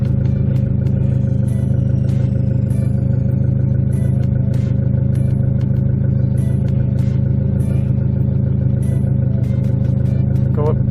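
A turbocharged Honda Civic with a D16Z6 engine runs loud and close at a steady, even drone, with faint regular ticking on top and no big rev swings.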